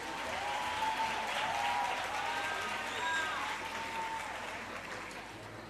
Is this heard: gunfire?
no